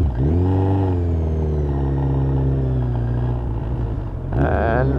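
A Suzuki Bandit 1250cc motorcycle engine runs loud and close during riding, rising in pitch early and then holding a steady drone. A brief rev or gear change comes near the end.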